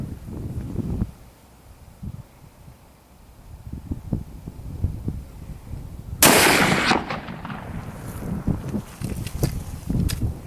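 A .500 Smith & Wesson Magnum revolver fires once from a rest at milk jugs 150 yards away outdoors. A single loud, sharp blast cuts through light wind and handling noise, then a ringing tail.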